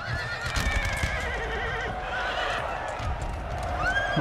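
Cavalry horses in the video game Napoleon Total War neigh and whinny repeatedly over a dense battle din with hoofbeats, loud and continuous.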